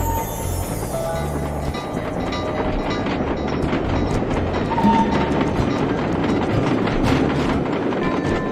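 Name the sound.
train running on rails in video game Sly Cooper 2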